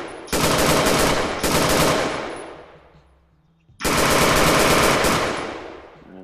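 A scoped gun firing in the VR game Physics Playground: loud, rapid automatic bursts, two close together and a third after a short pause, each tailing off.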